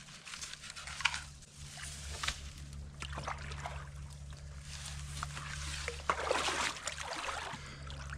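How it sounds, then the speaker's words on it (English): Gold pan full of gravel, dirt and rock shaken in icy stream water while prospecting for gold in the Midwest, giving steady sloshing and trickling with scattered gritty rattles, close by and moderately loud over a low hum. "we're going to shake it up in the water, and that will cause all that gold to fall to the bottom of the pan"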